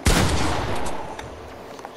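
Gunfire in a video game, a loud burst at the start followed by a dense, rattling spray of shots that gradually fades, with a few faint pops trailing off near the end.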